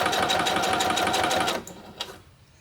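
Close, loud sewing machine running steadily through a bag seam for about a second and a half, then it stops and quieter handling noises follow.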